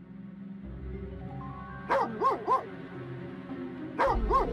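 The dog Fang in the game Harry Potter: Magic Awakened barks in two short bursts, a quick triple bark followed by a pair, over a soft musical game background.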